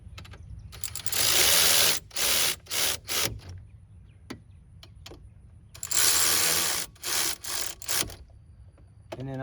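A hand ratchet tightens the brake caliper bolts on a 2002 Pontiac Grand Am. It gives two close bursts of rapid clicking, each a long run followed by several shorter strokes, with quiet pauses between and no talking.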